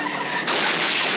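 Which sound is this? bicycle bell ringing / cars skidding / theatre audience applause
cars skidding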